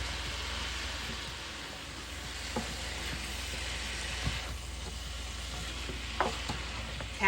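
Cabbage and butter beans stir-frying in a pan, a steady close sizzle with occasional soft scrapes and clicks of stirring throughout, no voices.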